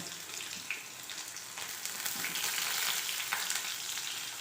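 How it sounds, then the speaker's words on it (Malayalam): Ginger and garlic frying in oil in a pan for a potato roast, a steady hissing sizzle with crackle that swells a little and holds, close and continuous with no voices. "ഇഞ്ചി ഇട്ട് കൊടുക്കുക വെളുത്തുള്ളി ഇട്ട് കൊടുക്കുക"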